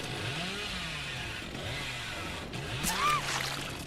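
A revving chainsaw in the Dead by Daylight video game, wielded by the Hillbilly killer, its engine buzzing in wavering bursts at moderate level, with a sharp whine near the end.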